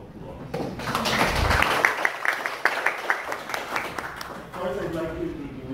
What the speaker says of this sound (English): Let's all give yourselves a round of applause.